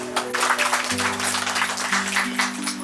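Guests clap together at a Christian engagement ceremony in Nepal, a close burst of applause lasting a few seconds over steady background music.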